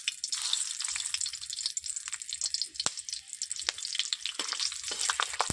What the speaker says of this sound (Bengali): বন্ধুরা আমি প্রথমে 3টা কাঁচা লঙ্কা দিয়ে দিচ্ছি এইভাবে ভেঙে।